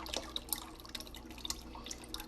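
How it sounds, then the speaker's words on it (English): Brewed hibiscus tea poured through a strainer, heard as a soft, close trickle with scattered small drips, quiet and steady with no talking. "we're pouring all of it through a strainer, to pick up any loose herbs"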